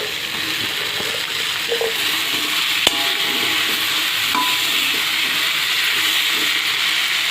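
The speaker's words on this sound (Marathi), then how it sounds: "आता आपल्याला बटाटा थोडासा याच्यामध्ये फ्राय करून घ्यायचा आहे" Potatoes frying in a spiced oil tempering after tomatoes go in, for a green bean and potato bhaji, giving a steady broadband sizzle and hiss throughout with a single sharp click partway and no voices.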